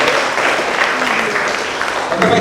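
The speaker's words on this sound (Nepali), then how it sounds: "आफ्नो आमाको लागि बहुत जोरदार ताली।" An audience at a BBA orientation session gives loud, sustained applause, a dense crackle of many hands clapping close by that carries through to the end.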